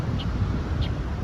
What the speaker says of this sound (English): It's the sound of a good beach when it squeaks like that.